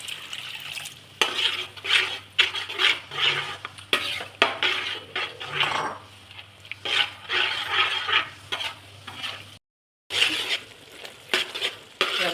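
Second coconut milk being poured into simmering tender coconut payasam in a pan, steady stirring and scraping with a faint bubbling hiss, one brief gap of silence partway through.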